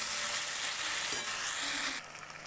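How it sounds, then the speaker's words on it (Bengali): Garlic and ginger paste with spices is stirred in a hot frying pan, making a loud, continuous sizzle with light scraping that drops sharply in level near the end. "দিয়ে এরপর আমি এটা ভালো করে নাড়িয়ে নেব।"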